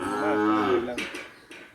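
A bull on a farm gives one loud, close, drawn-out bellow of under a second, followed by a few faint clattering knocks.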